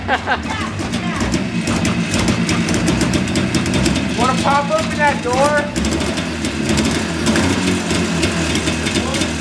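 A John Deere Spitfire vintage snowmobile engine idles roughly and loudly throughout, its steady sputter running under excited talking, with a brief rev partway through.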